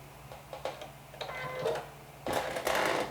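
A sewing machine stitches knit fabric for a cardigan sew-along, whirring steadily with a ticking needle rhythm that grows louder and busier in its final second, close by with no talk.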